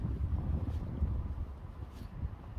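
Cold winter wind buffets the microphone outdoors during cherry blossom season in South Korea, a steady low rumbling roar that fills the whole stretch without a break.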